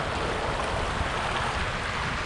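Wissler Run, a stream, flowing down into a tunnel: a steady, even wash of rushing water, fairly close and moderately loud, unbroken for the whole stretch, with no voices.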